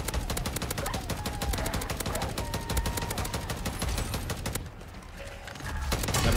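Rapid automatic gunfire in the MW3 Zombies shooter, dense repeated shots in a fast rhythm for about four and a half seconds, a short pause, then firing resumes, loud and close.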